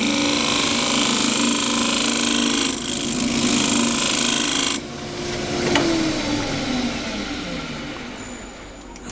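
Sandpaper at 120 grit rubbing steadily against a spinning cross-grain turned wooden box on the lathe, a continuous loud rasping hiss over the lathe's hum that cuts off sharply partway through, leaving a quieter whir.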